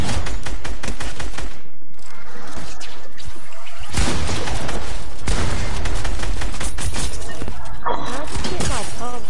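Ray gun firing in the video game Fortnite, loud dense bursts of rapid energy blasts with sharp shattering hits, mixed with game noise and voices talking over it.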